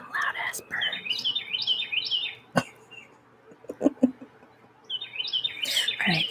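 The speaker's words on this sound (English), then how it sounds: "Or we could just listen to some loud ass birds." Loud birds chirp and tweet in quick repeated bursts, close and bright, played on an ASMR livestream. A pause in the middle holds soft whispering and small handling noises before the chirping returns.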